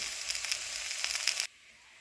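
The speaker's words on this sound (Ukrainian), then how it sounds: "Тим часом, поки в мене обсмажується картопля" Steady sizzling of potatoes frying in hot oil in a pan, close and continuous, cutting off abruptly near the end.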